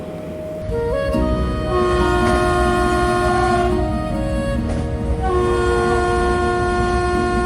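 A train rolls past with a sustained, loud multi-tone horn that swells in and holds for several seconds, the wheels and carriage rumble running steadily underneath.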